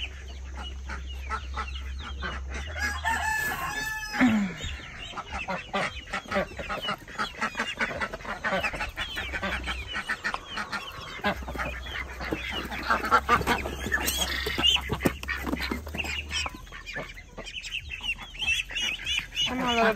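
Ducks and chickens call at feeding time in a close, busy chorus of honks, quacks and clucks that runs nearly the whole stretch, with a person speaking now and then.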